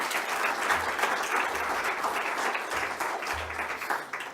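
An audience at a group session gives steady, dense applause to thank the organizer of an excursion, sustained at moderate volume throughout without talk.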